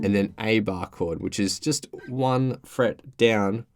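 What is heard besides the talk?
No everyday noise stands out behind the speech.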